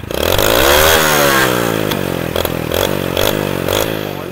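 A modified 2003 Hero Honda Splendor motorcycle exhaust blares loud and close, revving up and dropping in pitch with a raspy, throaty drone and a few quick throttle blips toward the end.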